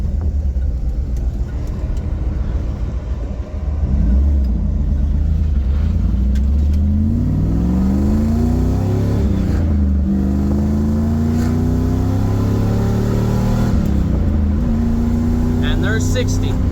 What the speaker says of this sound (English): we'll leave the windows open for a little bit just so you guys can hear the engine once I get on a little bit